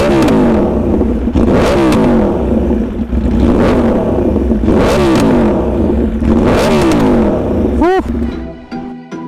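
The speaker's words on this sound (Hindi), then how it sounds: "ये रहा रेस फिट एग्जॉस्ट।" Yamaha YZF R1 sport bike with a race-fit exhaust, revved hard several times in repeated rising and falling blips, with a sharp final rev before the engine settles, loud and close.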